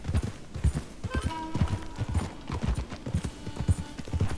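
Horse hooves pound in a rapid, rhythmic clip-clop gallop in the Red Dead Redemption 2 video game, loud and sustained the whole way through with no talking.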